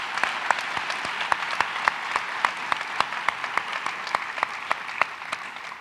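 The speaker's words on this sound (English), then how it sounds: "I'd like to give them a round of applause." Audience applause at a medical school White Coat Ceremony, a steady wash of clapping from a sizable crowd with sharp individual claps standing out, sustained evenly throughout.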